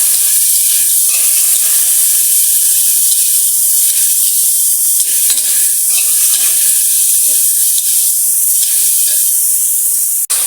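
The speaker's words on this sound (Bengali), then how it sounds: "মশলাগুলো দিয়ে আমরা ভালো করে শুটকিটাকে কষাই নিচ্ছি" Dried fish (shutki) sautés in a pan with onion, cumin and garlic pastes, salt and turmeric for a potato and shutki curry, giving a loud, steady sizzle and hiss that runs unbroken throughout with no voices.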